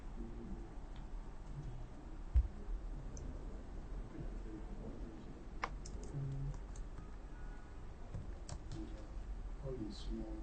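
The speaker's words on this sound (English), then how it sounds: "just keep typing until you're done with what you're writing" Steady typing on a computer keyboard, a dense run of light clicks and taps close by, with a few sharper key hits and faint background voices.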